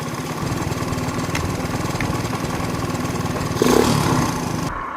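Motorcycle engine running steadily while riding, a continuous rhythmic mid-range thrum with a brief louder surge near the end, close and alone with no voices.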